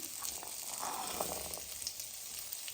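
Small potato pieces and green peas frying in oil with red chili powder make a faint, continuous hiss and crackle, steady throughout.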